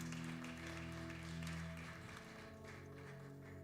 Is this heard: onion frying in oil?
no